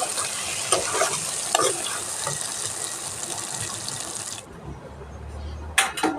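Food fries in a pan with turmeric stirred in, a steady sizzle with scraping stirs that cuts off abruptly near the end, followed by a brief low hum and a couple of clatters.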